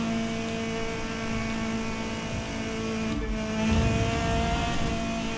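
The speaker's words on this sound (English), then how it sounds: "We want to get the car back up to speed." A race car in The Crew 2 accelerating down a straightaway on nitrous, a steady loud engine drone with layered tonal whine that swells slightly toward the end, heard alone without talk.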